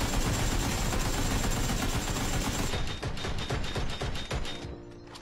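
Rapid automatic gunfire from a weapon in the PUBG battle royale game, a loud continuous burst of closely spaced shots that fills the opening seconds, then thins into scattered cracks and thuds.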